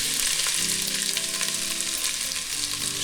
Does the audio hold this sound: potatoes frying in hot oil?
yes